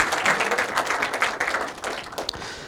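An audience at a hotel tech day gives a round of applause to the company's pioneers, a continuous patter of many hands clapping at close range, steady and fairly loud throughout.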